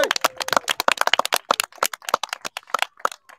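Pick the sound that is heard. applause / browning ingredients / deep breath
applause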